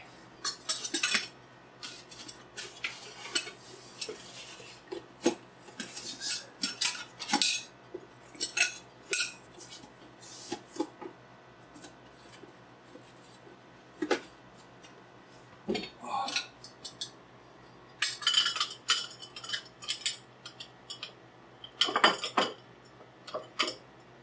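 A 1937 Pyrex Flameware glass saucepan and Pyrex lid being handled, with scattered glassy clinks, taps and knocks in irregular bursts, close and fairly crisp, separated by quieter handling noise.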